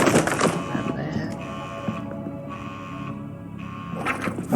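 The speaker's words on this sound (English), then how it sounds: "Oh, the alarm locked down the door." An alarm sounds in the horror game Edge of Sanity, a steady buzzing electronic tone that drones for several seconds, fairly loud, with brief bursts of other game noise at the start and end.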